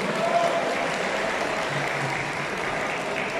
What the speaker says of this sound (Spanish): El aplauso que se escuche, por favor,